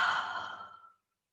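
A single long breathy exhale during a breathing exercise, fairly close and soft, fading out into silence after about a second.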